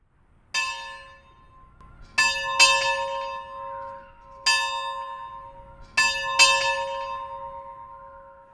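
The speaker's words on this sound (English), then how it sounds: "listening to the peal of the bell of the original one-room schoolhouse" A bell from an original 1892-era one-room schoolhouse peals in four clear, ringing strikes, some doubled, each leaving a long bright decaying hum, close and loud with no talking.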